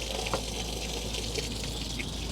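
Water runs steadily from a tap while feet are washed at an RV near San Francisco, a continuous close splashing gush with a few small spatters, moderately loud, with no talk.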